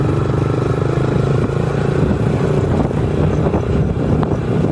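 Motorcycles ride along an extended city avenue in Caloocan, a constant rumbling engine drone with road noise, close and loud throughout, no talking.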